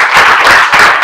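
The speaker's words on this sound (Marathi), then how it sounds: "सर्वांनी त्यांच्यासाठी जरा टाळ्या." An audience at a career guidance event in Mulund claps for a guest teacher, Parag Patil of Gurukul Academy. The applause is dense, loud and continuous, filling the whole moment without any talk over it.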